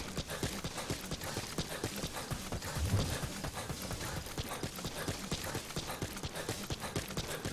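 Galloping horse hooves in the open-world game Metal Gear Solid V: The Phantom Pain, a steady rapid clip-clop rhythm at moderate level over dense game ambience and music.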